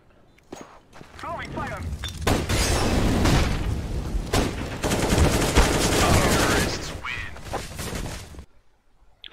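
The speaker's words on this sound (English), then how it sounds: "He's shooting the ground again" Rapid bursts of video game gunfire pound the ground, with dense machine-gun rattles and booming shots running for several seconds over people talking.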